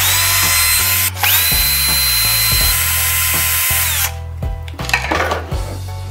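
A power screwdriver backs screws out of a hoverboard during a repair, a steady loud whirring motor with short pauses between screws and a sharp stop near the end, heard alone.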